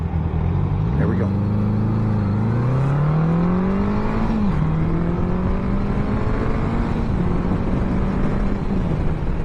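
A 1982 Honda Goldwing 1100's horizontally opposed four-cylinder engine revs up and climbs through three gears, a strong rising drone with brief dips at each shift, loud and close throughout.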